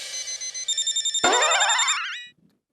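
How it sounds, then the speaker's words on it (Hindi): A telephone rings close by with a bright electronic trill, a quick run of pulsed bursts followed by a warbling ring that cuts off after about two seconds. "किसका फोन है?"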